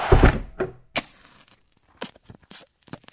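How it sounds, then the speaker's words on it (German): A door is pushed shut with a solid thunk near the start, followed by a few lighter knocks and clicks against a mostly quiet room. "Mach mal eben die Tür zu!"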